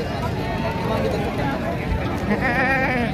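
Goats bleating amid the busy chatter and shuffling of a crowded village livestock market selling sacrificial goats, the animal calls close but partly buried under continuous talk and crowd noise.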